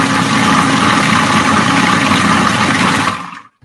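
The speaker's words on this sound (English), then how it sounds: "So I'm just going to whirl that up and make it into a sauce." A blender whirls avocado, white wine vinegar and lime juice into a sauce: a loud, close, steady roar for about three seconds that winds down and stops abruptly, with no talking.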